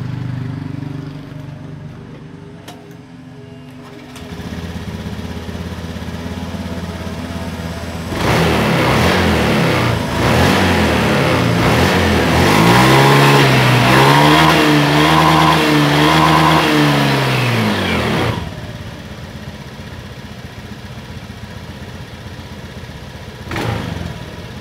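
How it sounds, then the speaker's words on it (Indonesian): A Honda Beat FI/Vario scooter with an IACV sensor fault and unstable idle runs close by, idling, then revving up in a sustained rising and falling burst before settling back to idle. "kita hidupkan dulu motornya untuk memperjelas"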